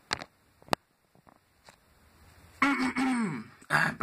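A single throat clearing near the start, a few faint breathy sounds, then a strained vocal noise close to a cough, followed by another short burst near the end.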